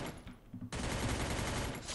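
Gunfire in the Free Fire video game: a few scattered shots, then a sudden dense, loud burst of rapid automatic fire that keeps going to the end, heard without talk.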